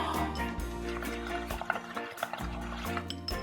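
Air is blown through a straw into a cup of soapy water tinted with food colouring, giving close, bubbling gurgles in uneven bursts with brief pauses.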